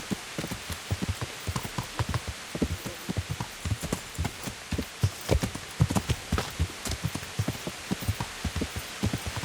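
Horse hooves clip-clop steadily through rain in the Kingdom Come: Deliverance video game, a fairly quick walking rhythm of distinct thuds over a constant hiss of falling rain.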